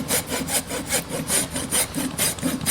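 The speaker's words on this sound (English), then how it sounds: "I'm going to take the rasp on the corner and go around" A hoof rasp filing the corner of a horse's hoof, rhythmic back-and-forth rasping strokes, about ten in quick succession, close and fairly loud.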